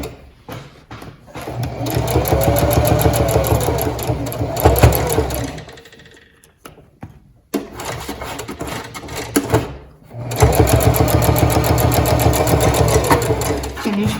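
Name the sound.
sewing machine stitching fabric for a zippered pouch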